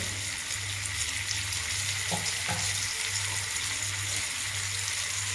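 Mushrooms frying in oil with curry leaves, green chilli and onion for a pepper fry, a steady broadband sizzle running the whole time with a couple of brief stirring clinks, no talk.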